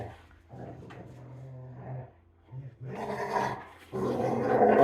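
Low, close dog growling rumbles in bursts, rising louder toward the end; the dogs are a Rottweiler and an Irish Pointer boxer mix.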